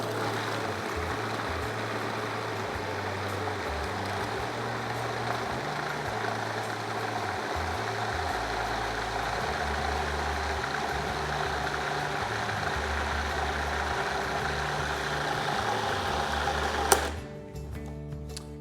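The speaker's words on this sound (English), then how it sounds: "Now that everything's in our food processor, just turn it on and blend until smooth." A food processor blends hummus until smooth, a steady close motor whir with a rhythmic churning, running without pause for about seventeen seconds before cutting off abruptly.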